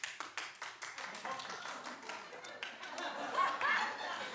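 A studio talk-show audience clapping, scattered and fairly faint, with thin claps spread across the moment and a few chuckles mixed in.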